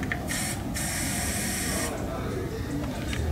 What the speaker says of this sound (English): spray it in a cup